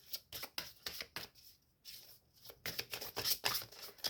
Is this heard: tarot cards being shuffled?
yes